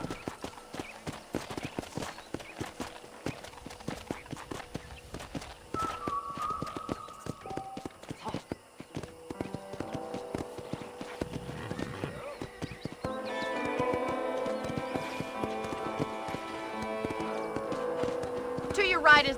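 Horse hooves clip-clop in a steady walking rhythm while riding in Red Dead Redemption, with a neigh and background music building toward the end.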